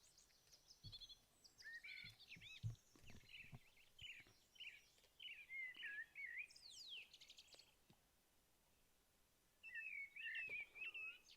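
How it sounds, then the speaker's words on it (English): Birds sing outdoors in short bursts of high, quick chirps and trills, separated by brief pauses. The song is faint and distant, with a few soft low knocks in the background. "As you listen to the bird song"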